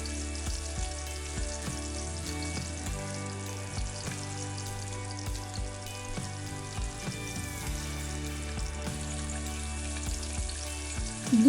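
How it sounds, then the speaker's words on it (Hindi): Spinach (palak) pakoras on their first deep fry in hot oil, a continuous soft bubbling sizzle with faint occasional clicks, fairly quiet and steady throughout. "ऐसे ही दूसरे बैच को फर्स्ट फ्राई के लिए डाल देना है।"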